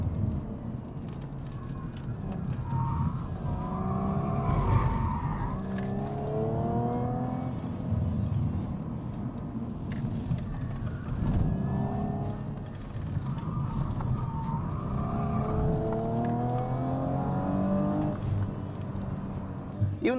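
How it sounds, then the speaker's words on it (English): A 2018 Audi RS5 with an 8-speed automatic is driven hard through corners. Its engine roars up and down in repeated sweeping revs, loud and close, with road noise throughout. "this car really can go around corners without any hint of"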